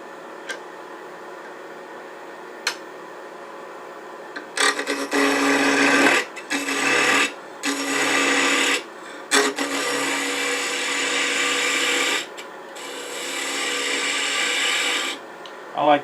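A wood lathe spins a 5/8 to 3/4 inch square blank for a small Nordic gonk ornament, a steady motor hum broken by several loud bursts of tool-on-wood cutting and scraping as the corners are rounded.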